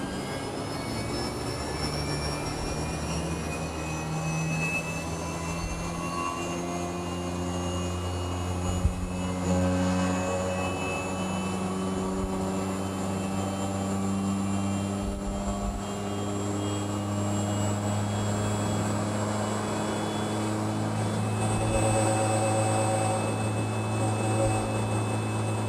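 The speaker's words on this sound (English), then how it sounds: "During the warming up phase, the dry pump is rotating at full speed, 110 Hz" An Edwards GXS dry vacuum pump warming up at full speed, 110 Hz, gives a steady, continuous mechanical drone with a strong tonal hum and whine that hold level throughout, heard alone without talk.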